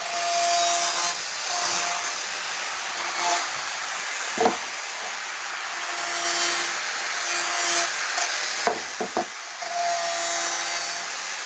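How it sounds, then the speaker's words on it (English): A standard grinder chamfers the edge of a metal window frame in a factory, a continuous harsh whirring grind at close range with a few brief clanks and pauses. "So standard grinder."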